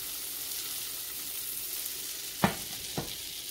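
Butter melting in a hot pan before shrimp go in, a soft continuous sizzle with two sharp knocks near the end, no talking.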